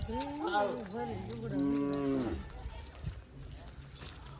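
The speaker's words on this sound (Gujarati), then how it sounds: "આ ગાય તારી હે" A cow moos in a mobile farming game, giving one long, wavering, close moo for about two seconds before it fades into quiet background hiss.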